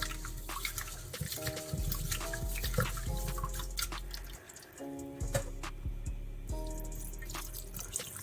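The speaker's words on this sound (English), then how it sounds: "we're gonna wash the rice" Water trickling and dripping with splashes as rice grains are swirled and rinsed in water, steady and close, with a low hum underneath.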